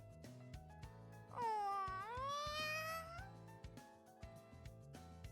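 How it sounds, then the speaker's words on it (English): A cat named Freya in a visual novel lets out one long, rising meow of about two seconds, clear and close over soft background music, with no talking. "Oh, who's a cute little kitty?"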